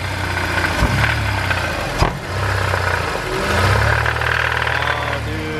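Car engine with a knock combustion sensor fault code, idling and then revving in surges as gas is applied at an airstrip, loud and close with no talk.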